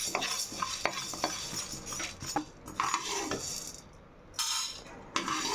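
Grains for a multigrain health mix dry-roast in a pan as a spoon stirs them, giving close, irregular scraping and rattling strokes with short pauses and no talking.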